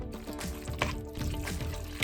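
Two tablespoons of water poured into a spicy Mongolian beef marinade of salt, baking soda and cornstarch: a brief, soft trickle and splash, close and faint, with no talking.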